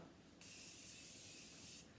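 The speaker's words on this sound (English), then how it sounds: "it's the Morphe continuous setting spray" Morphe continuous setting spray released in one long, even, close hiss lasting about a second and a half, starting and stopping abruptly against quiet room tone.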